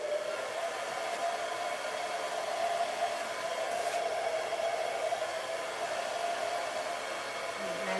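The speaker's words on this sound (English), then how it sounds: "we're gonna blow dry it" A hair dryer blows steadily and loudly on hair being styled into a weave ponytail, a constant whirring rush with no pauses and no talking.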